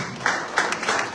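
An audience applauds an ambassador at a Zimbabwean embassy event in Namibia, with a short burst of dense clapping under a faint voice.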